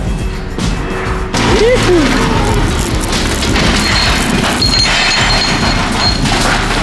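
Loud, busy industrial clatter and thuds while workout equipment is unloaded from a 40-foot shipping container, with a continuous racket of banging and scraping and a brief squeal early on.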